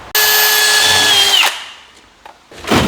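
Power drill boring a couple of holes in a snowmobile part for 1/4-inch bolts, a loud steady high whine for over a second that winds down, followed by quieter shop sounds and a brief second burst at the end.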